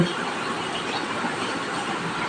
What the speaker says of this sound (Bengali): ট্রেন দুলকি চলে চলেছে